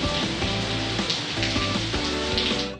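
Steady rain falling in Lahore in a pre-monsoon downpour, a dense continuous patter and hiss of drops on surfaces, fairly near and even throughout with no talk.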